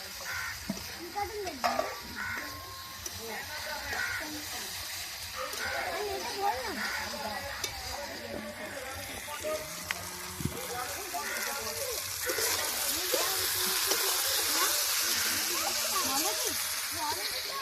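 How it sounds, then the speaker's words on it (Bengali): Spices and tomato stir-fry in a pan with a frying hiss that swells into a louder sizzle, scraping stirring strokes on top, and a voice talking over it. "সব মশলাগুলো একসঙ্গে একটু নেড়ে চেড়ে ভালোভাবে কষিয়ে নেব।"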